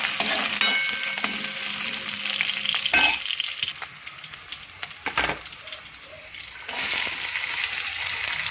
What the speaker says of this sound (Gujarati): સરસ ડુંગળી શેકાઈ જાય